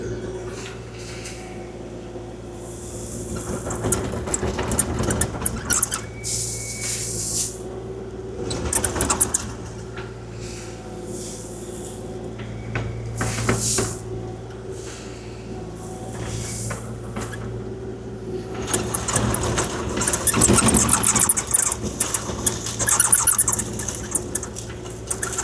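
Kubota KX040-4 compact excavator grading ground, a steady diesel engine drone throughout with intermittent clanks and rattles of the machine working.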